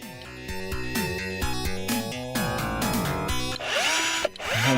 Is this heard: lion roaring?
no